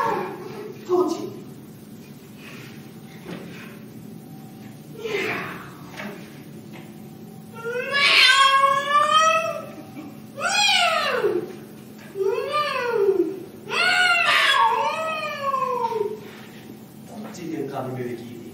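Several clear, drawn-out meows from a cat, rising then falling, sound in a cluster in the second half of the moment. Soft background sounds and scattered voices come before them.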